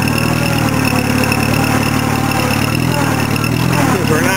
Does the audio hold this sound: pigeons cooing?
no